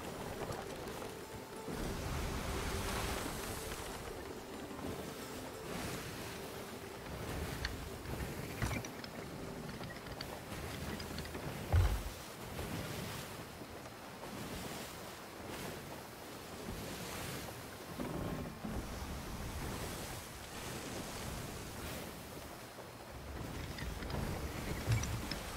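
Ocean waves and wind wash steadily around a sailing ship in the pirate game Sea of Thieves, a constant, low-level surf roar lasting the whole stretch with no voices over it.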